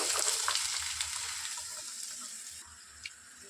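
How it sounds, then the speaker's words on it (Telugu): Finely chopped onions sizzle in hot oil, a bright frying hiss close by that gradually fades a little, with faint clinks and no speech. "ఆయిల్ హీట్ అయిన తర్వాత ఇందులో సన్నగా కట్ చేసి పెట్టుకున్న ఆనియన్స్ వేసుకోవాలి."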